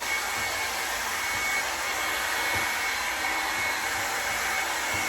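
A Revlon hair styler blow-drying hair runs as a steady, close whirring roar of air with an even motor hum, continuous for the whole stretch with no talking.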